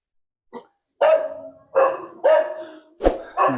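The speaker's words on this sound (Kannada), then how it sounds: "ಅಲ್ಲಿ ಒಂದು ನಾಯಿ ಉಂಟು ಮನೆಗೆ ಬರ್ಬೇಕಾದ್ರೆ ತುಂಬಾ ಕಷ್ಟ" A farm dog at a house on a dairy farm with HF cows barks about six times in short, loud, close bursts, spaced irregularly with brief silences between them.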